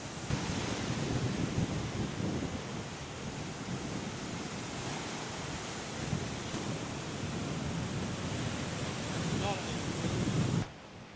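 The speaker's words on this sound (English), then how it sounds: "Big waves. No, they're not big. They're small, actually." Small sea waves wash in along the shore at Caesarea in Israel: a steady, continuous surf rush mixed with wind buffeting the microphone, running evenly before cutting off near the end.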